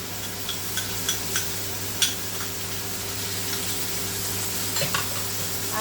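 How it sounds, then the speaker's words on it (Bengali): Ginger garlic paste fries on low gas in a pan for chicken curry, with a continuous close sizzle and a few light clicks and scrapes as a spoon stirs it. "আদা রসুন এটাকে আমি দু মিনিট নাড়াচাড়া করে"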